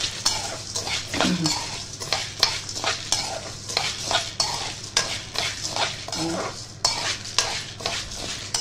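Spoon stirring pasta as it browns in a hot pan, repeated scraping and clinking strokes over a soft steady sizzle, close and fairly loud.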